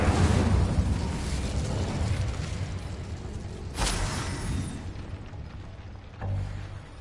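Incendio fire spell in Hogwarts Legacy goes off as a loud roaring blast, swelling into a sustained rumble with a second burst midway and another low thump near the end.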